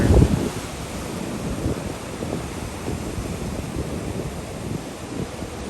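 Nor'easter storm surf rumbles and washes continuously, mixed with gusty wind buffeting the microphone, with a stronger surge at the very start.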